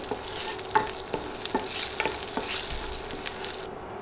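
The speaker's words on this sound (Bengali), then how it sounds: "নেড়ে কয়েক সেকেন্ড মশলাগুলো ভেজে নিব।" Panch phoron whole spices fry in hot oil for an okra dish, a steady sizzle broken by scraping stirs and light clinks of a spoon against the pan, close and alone, ending abruptly.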